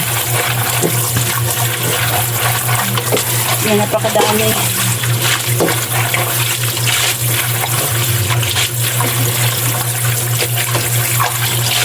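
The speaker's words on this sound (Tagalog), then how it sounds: "Mga 3 beses or 5 beses na banlaw guys hanggang sa luminaw yung kanyang sabaw o yung tubig na pinanghugas natin dito." Chicken intestines (isaw) being rinsed under a steady, loud stream of running tap water, with a continuous splashing rush and a person speaking briefly over it.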